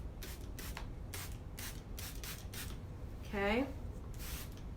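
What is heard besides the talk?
spray bottle spraying bleach onto t-shirt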